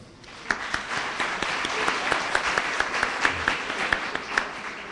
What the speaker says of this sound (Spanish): Vamos a darles un aplauso a los que quedaron.